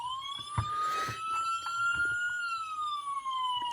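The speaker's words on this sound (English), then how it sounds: "The siren, just a basic siren." A basic siren on a custom Jacksonville Sheriff Ford Police Interceptor sedan wails steadily and loudly nearby, its pitch sweeping slowly, with faint clicks underneath.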